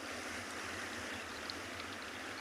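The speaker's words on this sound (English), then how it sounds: "this powerful sound of the waves" Powerful ocean waves breaking on a South African shore make a steady, broad wash of surf that is faint and distant, with no voices over it.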